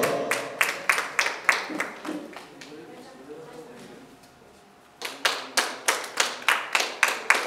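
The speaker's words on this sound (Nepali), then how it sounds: "जोरदार ताली विश्वमोहन गौतमज्यूका लागि" A debate competition audience claps for a guest in rhythmic bursts of applause that fade to a quiet lull, then resume as steady, fairly close claps in time.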